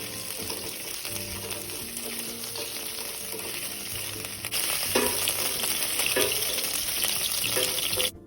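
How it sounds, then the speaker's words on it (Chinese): Shelled, deveined shrimp halves stir-fried quickly in hot oil: a continuous close sizzle that grows noticeably louder and hissier midway, with occasional spatters and no talking. "鲜虾5至6只，去壳去线后，对半切开，油热后放入快速拌炒"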